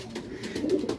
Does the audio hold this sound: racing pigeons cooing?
yes